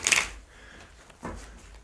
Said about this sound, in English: Let me just do a quick little shuffle here.